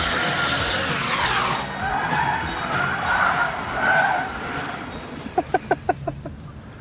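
A 1998 Lexus saloon at about 150 mph on a runway, a loud steady engine and wind roar with the pitch rising and shifting, then a quick run of sharp clicks near the end.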